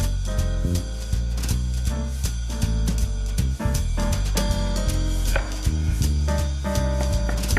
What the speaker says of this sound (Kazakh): Пиязды алып, ұсақтап турайтын боламыз